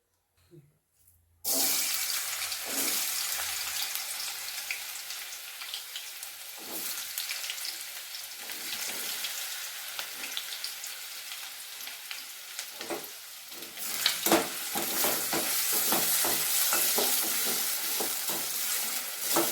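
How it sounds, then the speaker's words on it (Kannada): Potato pieces fry in hot oil for sabudana upma, a sudden loud crackling sizzle that starts abruptly and keeps going steadily, flaring up louder near the end. "ಎಣ್ಣೆ ಕಾದ್ಮೇಲೆ ನಾವು ತಗೊಂಡಂತಹ ಒಂದು ಆಲೂಗಡ್ಡೆ ಏನದಾವಲ್ಲ, ಮೊದಲ ಇದನ್ನ ಆಲೂಗಡ್ಡೆಯನ್ನು ಇದನ್ನ ಫ್ರೈ ಮಾಡಿ ಇಟ್ಕೋಬೇಕು"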